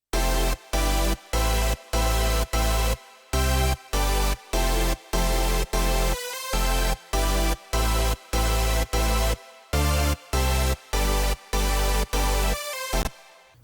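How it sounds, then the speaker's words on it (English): Layered synth chord stack with distorted sine sub and filtered saw bass layers, a dense, bright, loud pattern of rhythmic chopped chords with short gaps between stabs, alone without talk. "you get this really, really nice sounding chord stack"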